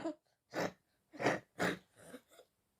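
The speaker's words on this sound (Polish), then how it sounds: "Sorry za kaszel." A person coughs about five times in quick succession, harsh, close bursts separated by brief silences, with no speech.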